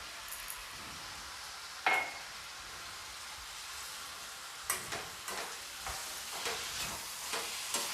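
Roughly chopped tomatoes go into a frying pan with cashews while cooking shahi paneer, setting off a steady sizzle, with sharp clinks and scraping stirs from a spoon against the pan.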